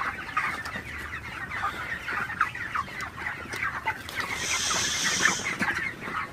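A crowd of broiler chickens clucks and chatters steadily in hot, humid weather, many birds at once, with a constant hiss of background noise.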